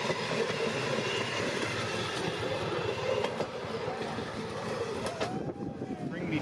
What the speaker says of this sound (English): watching the excursion train pull in